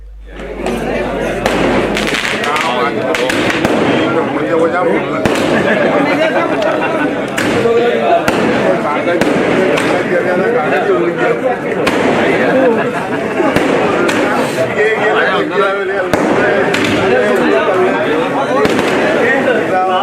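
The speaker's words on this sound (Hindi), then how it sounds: "आतिशबाजी का शानदार कार्यक्रम भी रहा।" Fireworks at a public welcome celebration for a local leader: continuous crackling and popping with frequent sharp bangs, loud and close, under dense crowd chatter throughout.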